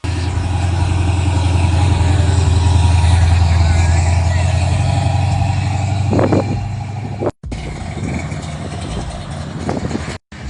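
The odd-sounding boat car at an outdoor auto fest car show runs with a steady, close engine drone that holds for several seconds before easing off, with voices talking over it and brief dropouts near the end.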